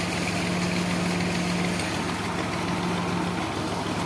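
A tractor engine runs steadily on a farm, a loud continuous idling rumble with a low droning hum and constant mechanical vibration, no voices over it.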